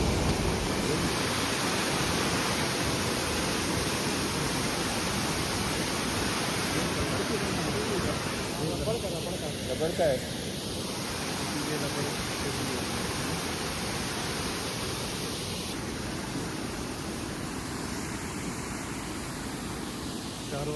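Water rushes steadily over the Falgu river rubber dam, also called Sita Setu, in Gaya, a loud broadband roar filling the whole span with a brief voice speaking partway through.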